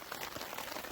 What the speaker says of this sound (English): It is raining right now, pretty hard.